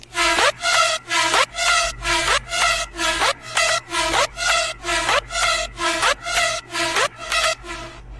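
An FL Studio dance drop with kick, claps and a drop melody pounds out loud, evenly spaced synth stabs, about two per second, with no voices over it.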